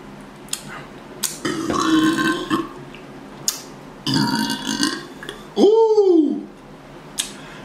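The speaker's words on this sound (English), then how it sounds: "they say when you burp that means you enjoyed it" A loud, drawn-out burp after a swig of Prime lemon lime energy drink comes near the end, following a couple of short vocal bursts and small clicks.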